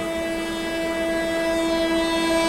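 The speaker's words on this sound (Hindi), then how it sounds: "अभी कुछ ही देर में सियालदह राजधानी निकलने वाली है यहाँ से" A Sealdah Rajdhani express train departs and overtakes, giving a steady, loud rolling rumble with sustained tonal lines like a horn or wheel whine throughout, no voices.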